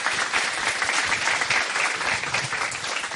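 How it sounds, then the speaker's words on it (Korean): A studio talk-show audience claps steadily and loudly throughout, a dense, even wash of applause with no voices over it. "박수 한번 좀 부탁드리겠습니다"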